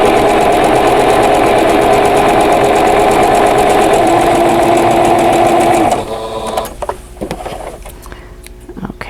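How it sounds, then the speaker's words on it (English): Loud, steady whirring hum of a sewing machine stitching a vintage quilt block for about six seconds, then it stops and only faint handling clicks and rustles remain. "And we're just going to sew on both sides of this line."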